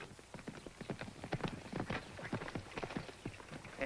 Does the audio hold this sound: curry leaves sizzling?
no